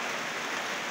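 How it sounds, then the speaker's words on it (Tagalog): Steady rain falling outdoors during a prolonged downpour, a dense even hiss of drops at moderate distance with no pauses. "Ayan, umuulan po."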